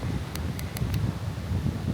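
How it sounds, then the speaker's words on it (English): Wind gusting at the Hawaii seaside on a rainy day, a steady low rumble of buffeting against the microphone with a few brief sharp ticks, loud and continuous throughout. "So it's not cold at all, it's just windy and rain."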